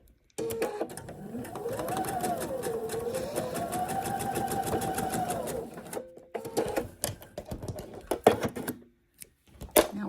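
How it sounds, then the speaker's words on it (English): A sewing machine stitches quilt diamond pieces in one continuous whirring run lasting several seconds, then stops, followed by a few clicks and handling knocks. "And then I'm gonna sew along this line."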